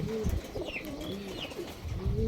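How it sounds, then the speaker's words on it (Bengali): Pigeons coo softly in repeated low, rolling calls, close by and fairly quiet, with a few faint higher chirps between them. "চার পিস কবুতর উড়াবো দেখতে পারছেন মাসাল্লাহ"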